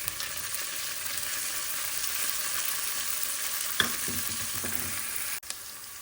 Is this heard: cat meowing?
no